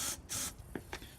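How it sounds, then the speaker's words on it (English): Starting fluid hisses out of a spray can into an Onan generator on an MCI MC9 bus conversion, in two short, faint bursts followed by quieter clicks. "So we'll squirt a little bit of this in there."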